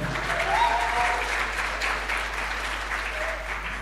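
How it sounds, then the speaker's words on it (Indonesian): Audience applause at a university-hosted ICT competition roadshow in Bandung, a steady, even wash of many hands clapping at moderate volume for a few seconds with no talking. "Tepuk tangan sekali lagi"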